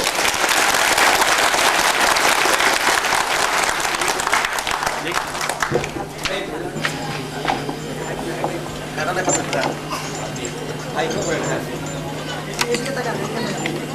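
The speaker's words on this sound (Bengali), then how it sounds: "দিদি মহোদয়কে জোরে করে করতালি দিবেন, জোরে করে" An audience claps loudly and continuously for several seconds at a disability organisation's gathering in Natore, then the applause fades into scattered claps under a speaker's amplified voice.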